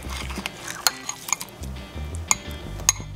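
A metal spoon scrapes and clinks against a dish of homemade strawberry shaved ice with ice cream: a handful of sharp, bright taps separated by soft scraping, close and clear.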